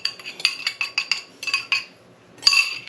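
A utensil clinks repeatedly against a bowl while lemon sugar is mixed into scone dough, producing a quick irregular run of close, bright taps, a brief pause, then another cluster of clinks.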